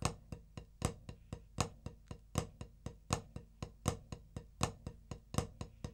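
A snare-type drum plays the flam accent rudiment, a quick repeating triplet figure with accented grace-note strokes, steady and close, with no talking over it.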